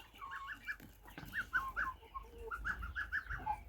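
Chicks of a speckled cuckoo-patterned meat-and-egg chicken breed cheep in quick, high little peeps, several birds chirping in bursts at a soft, fairly close level.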